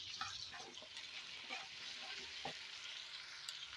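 Tomatoes and green chillies frying in a pan for khichdi, a soft steady sizzle with light stirring scrapes, faint and close.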